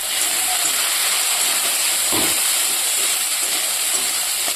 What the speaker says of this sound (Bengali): তো এদিকে কিন্তু বসিয়ে দিয়েছি আলু আর শিম ভাজা।